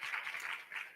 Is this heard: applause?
yes